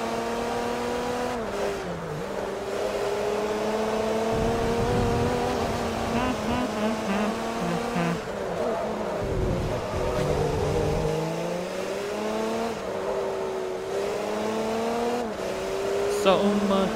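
Race car engine in Forza Motorsport 3, droning and shifting pitch as it accelerates and brakes, with a brief rumble of tires midway, playing steadily under someone talking.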